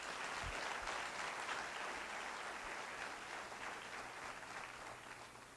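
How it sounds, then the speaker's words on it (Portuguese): A church congregation claps steadily for several seconds, a dense, even patter of many hands, moderately loud without pauses. "Louve a Jesus com as suas palmas."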